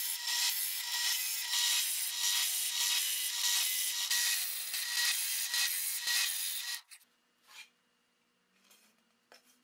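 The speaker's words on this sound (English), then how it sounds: "I was able to use my drill press to drill the holes for the spice jars" Drill press cutting holes in wood with a 1 3/4-inch Forstner bit, a loud, steady grinding rasp for several seconds that stops abruptly, leaving faint clicks and a low fading hum.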